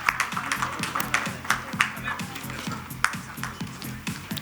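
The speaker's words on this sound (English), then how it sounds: "Can we have a huge round of applause for him?" At a conference, an audience gives a round of applause for a speaker, with scattered individual claps ringing out at an uneven rhythm over a few seconds, fairly quiet and with a voice speaking underneath.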